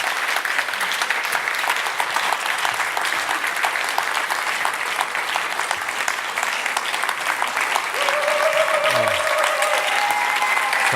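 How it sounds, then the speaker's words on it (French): Sustained theatre audience applause at a season presentation, a dense, even clapping that continues throughout, with a short sliding tone rising and falling near the end. "Vous ne l'avez probablement jamais vu, vous pouvez l'applaudir."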